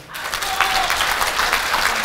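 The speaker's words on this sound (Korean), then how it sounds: "동의하시면 박수 치십시오." A crowd applauds steadily for about two seconds at a Korean political lecture, dense clapping swelling quickly and holding at a fairly loud, even level.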